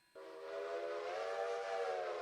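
A steam locomotive whistle in the train game Railroader blows one sustained, steady chord-like tone that starts abruptly and holds, moderately distant and alone.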